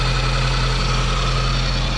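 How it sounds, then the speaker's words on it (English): A 1983 Mitsubishi Colt 1.4L engine runs at a steady idle, a continuous low rumble with a faint hum, close and unbroken for the whole stretch with no talking. "engine's turning as well."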